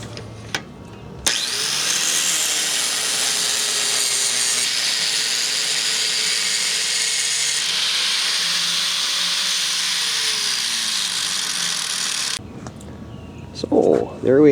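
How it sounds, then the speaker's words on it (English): A homemade lawnmower blade sharpener grinds a mower blade in a home shop, a loud, steady, high whine that starts abruptly and runs about eleven seconds before cutting off, with quieter handling noises before and after. "my lawnmower blade sharpener"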